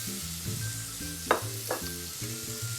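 Sea scallops drop into hot olive oil in a pan and sizzle with a steady hiss, marked by a couple of sharp splatter bursts, while louder music plays over it.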